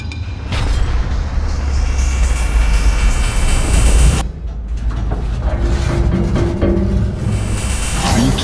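A loud, steady electric motor whine and heavy rumble from an all-electric Ford F-150 prototype pickup towing a train over a million pounds, straining under load, with a brief drop midway before the droning resumes.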